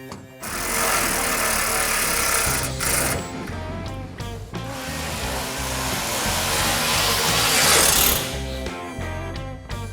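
A power tool whirs loudly and continuously, close up, while bolts are tightened on a Mopar B-body convertible, the buzzing whine dipping briefly and then picking back up between runs.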